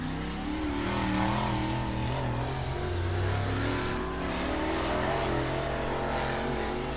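Race cars run hot laps around the oval at Rocket Raceway Park, a steady broad engine roar that swells and fades slightly as the cars circle, continuous for the whole stretch with no talk.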